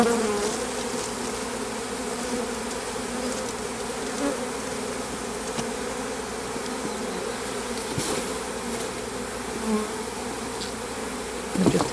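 A dense swarm of honey bees hums steadily and loudly close by after a box of bees is emptied onto the top of a hive, a continuous buzzing drone with no talk.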